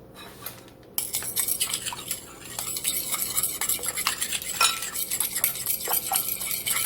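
Metal utensil scraping and stirring steadily in a pan as soup goes in with floured hamburgers, close and continuous after a quieter opening second, with light clinks throughout.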